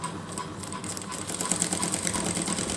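A sewing machine stitches a fabric strip for a trouser hem, running with a fast, steady mechanical rattle up close and no pauses.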